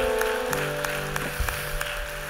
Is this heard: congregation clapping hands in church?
yes